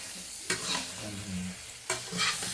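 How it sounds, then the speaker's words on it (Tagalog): Garlic prawns frying in a pan, steady close sizzling with two sharp bursts of louder crackle as food is stirred or added, no voices. "magluluto na naman tayo ng prawns garlic"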